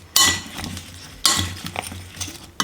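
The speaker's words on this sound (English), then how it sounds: "And then I just stir until combined." A utensil scrapes and clinks against a bowl while a salted chicken nugget mixture is stirred, in two or three distinct close strokes with short pauses between.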